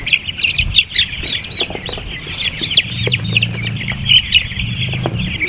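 Chickens cluck and squawk continuously nearby, several birds overlapping in a busy, chattering rhythm with a low murmur beneath.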